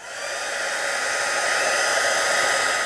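A heat embossing tool blows hot air onto embossing powder over a stamped sentiment on a card, making a steady, close, loud whoosh like a small hair dryer that rises slightly and holds level.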